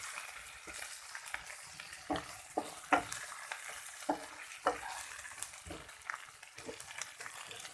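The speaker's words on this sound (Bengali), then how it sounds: "এবার সবগুলি মশলা পেঁয়াজের সাথে আর অন্যান্য মশলার সাথে ভালো করে নাড়িয়ে" Spices with onion and a ginger-cumin paste being stirred in a frying pan, soft sizzling under a series of irregular spoon scrapes and taps, close but fairly quiet.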